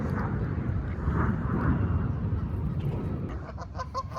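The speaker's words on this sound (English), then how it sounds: "More geese. Creeping up on me." Geese honk in a park, a few calls rising over steady outdoor rumble and distant noise, with louder honks toward the end.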